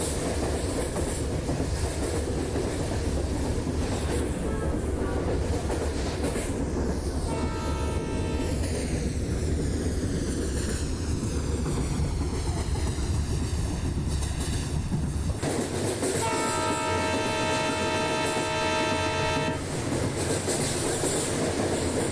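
An express train from Rameshwaram to Kanyakumari, number 22621, runs on rails in a train simulator game, with a constant loud rumble of wheels and two long horn blasts, one early and one later.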